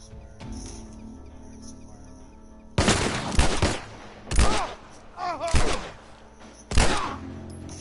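Pistol shots in The Last of Us video game fire in several loud, sharp bursts with a few seconds between them. The shots sound close and stand over a quieter game background.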